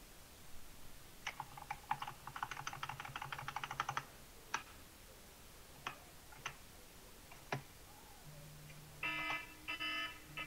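A streaming timer alarm sounds in short repeated electronic beeps, with bursts of rapid pulsing tones mixed among scattered keyboard clicks and ticks, fairly faint overall.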